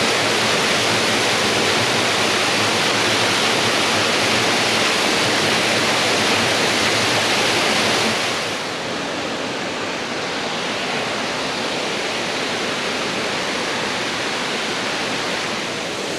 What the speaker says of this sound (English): The river is cascading all the way down until where I was before.